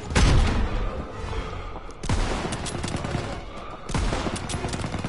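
Battle gunfire from the Call of Duty WWII game, including fire at an MG-42 nest: dense bursts of automatic weapons and heavy booms in three loud waves, each starting sharply and rumbling on.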